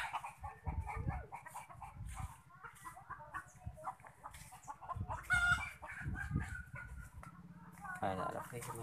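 Chickens cluck and a rooster crows near a fish pond in the countryside, loud and close, and people talk over and between the calls throughout.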